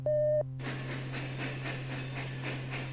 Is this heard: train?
yes